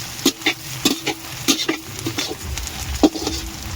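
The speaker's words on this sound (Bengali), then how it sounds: "পেঁয়াজ ভাজা হচ্ছে।" Onions frying over a wood fire in an outdoor cooking setting, irregular crackling sizzles and stirring scrapes in short bursts, fairly close and moderate in level.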